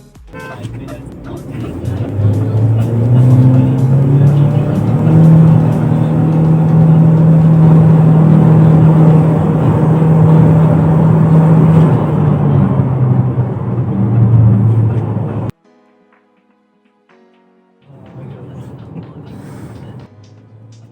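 A DFSK Glory 580 Pro engine revs and pulls hard under sustained 0 to 100 acceleration, loud and steady for about fifteen seconds, then cuts out before a quieter engine hum returns.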